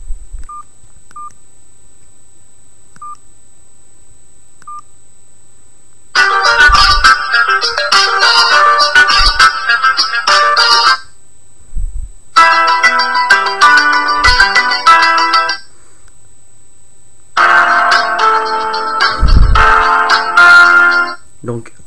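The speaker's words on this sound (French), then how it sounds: "vous allez voir quelques essais de sonnerie" Three bursts of bright electronic ringtone melody play loudly, separated by short silences, with a few faint beeps before them.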